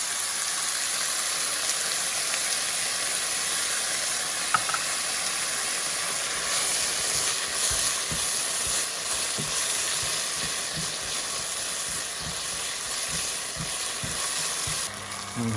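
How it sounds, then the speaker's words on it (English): Stir-fry sauce hits a hot wok of vegan greens and sets off a steady, loud sizzle and hiss, with occasional scraping as the greens are tossed. "So now we're going to add some sauce. It's our stir-fry sauce."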